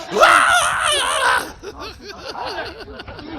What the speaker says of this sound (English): Why is he screaming like that?